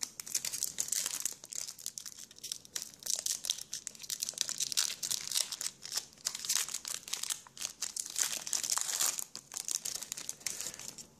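Foil wrapper of a Pokémon ex Holon Phantoms booster pack crinkling and crackling steadily as it is torn open, close and continuous, with no talking.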